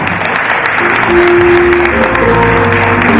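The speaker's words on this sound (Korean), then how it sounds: "다시 한번 박수 부탁드리겠습니다" Loud, sustained crowd applause at a Korean political party's provincial founding convention in Gyeongbuk, with a faint voice and tonal hum underneath toward the end.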